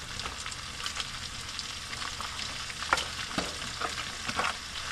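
Red onions sizzle steadily as they fry in a pan, a soft even crackle with scattered sharper pops and spits, fairly quiet and close with no voices.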